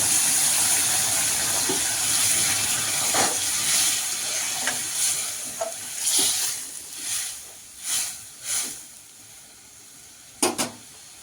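Curry of home-raised duck eggs simmering after hot water is added, giving a steady hiss and sizzle with soft bubbling swells and a few sharp clinks near the end, close by and without talk.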